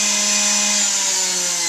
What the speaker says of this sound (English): You want to juice the lemon in there.